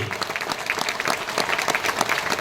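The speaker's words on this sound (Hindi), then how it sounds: "एक बार जोरदार शानदार सम्मान करेंगे तालियों से।" A seminar audience in Ahmedabad breaks into strong, steady applause, dense rapid clapping from many hands filling the hall without pause.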